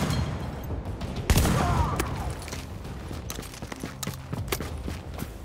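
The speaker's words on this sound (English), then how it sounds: "Using the shotgun just pisses me off sometimes." Shotgun blasts in The Division during an apartment mission: one loud sharp shot is followed by a scattered series of quieter cracks and impacts, with faint voices in the background.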